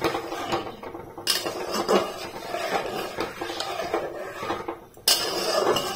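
Metal spoon stirring and scraping through spices and salt in a cooking pan for chana masala, with repeated clinks and scrapes in an irregular rhythm, close and fairly steady with no talking.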